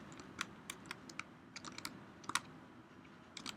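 Someone types on a computer keyboard while playing on a Minecraft Bukkit server, irregular crisp key clicks in small clusters, close and fairly quiet over a low steady hum, with no voices.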